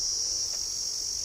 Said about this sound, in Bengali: দেখছেন তো একটা আওয়াজ হচ্ছে, এটা ঝিঝি পোকার আওয়াজ।